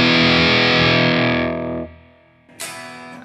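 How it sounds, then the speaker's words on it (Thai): Electric guitar played through an Apezila Romeo 12ax7 tube ultra high gain distortion pedal, a thick saturated sustained chord that decays and fades, followed by a short sharp new strummed attack near the end, loud with no talk. "มาลองเช็คเรื่องเกณฑ์ดูนะครับก็คือปรับสัญญาณแตกมากแตกน้อยก่อน"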